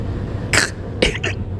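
A person coughs and clears their throat in two or three short, harsh bursts, with quiet room noise between them.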